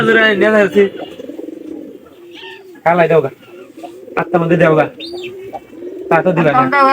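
Pigeons in a loft give soft, low cooing calls, interleaved with several people talking loudly nearby in bursts, plus occasional rustles and a short chirp.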